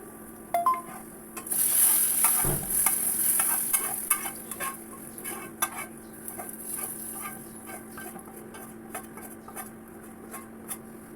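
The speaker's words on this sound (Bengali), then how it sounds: "তেল বাগার দিয়ে দিয়েছি, আমাদের আঞ্চলিক ভাষায় এটাকে তেল মারা বলে।" Spices are tempered in hot oil in a pan, giving a sharp hissing sizzle that flares loudly at first, with stirring and clinks of utensil on metal, then settles into a quieter steady frying.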